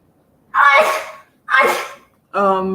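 Three sharp bursts in a row, sneeze-like explosive exhalations, the last one more voiced, loud and close.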